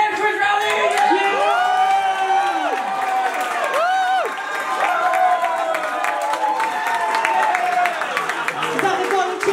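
A crowd at a corporate stage comedy show cheers, whoops and shouts continuously, with high excited voices rising above dense, loud applause throughout.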